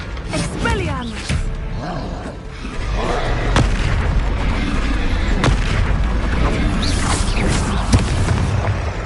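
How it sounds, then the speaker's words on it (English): A wizard's Expelliarmus disarming spell cast in Hogwarts Legacy, booming magical bursts and sharp cracks amid continuous battle noise and game effects, with a character voice speaking over the din. "Expelliarmus."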